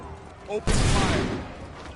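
Gunfire in Assassin's Creed 3: a sudden loud volley of musket shots bursts out and rumbles away over about a second, following a shouted voice.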